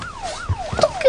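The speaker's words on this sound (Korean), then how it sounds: "앰뷸런스 왔다." An ambulance siren wails with smooth rising and falling sweeps, loud and fairly close, over a faint road rumble.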